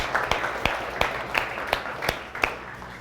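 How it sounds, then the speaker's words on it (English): Audience at a business talk clapping for a volunteer, with a few sharp, loud, fairly regular claps standing out over a thinner background of scattered clapping, close and punchy. "let's give him a round of applause."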